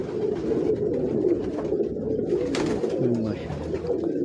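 Salare pigeons coo in soft, low, repeated throaty calls close by, with faint background noise.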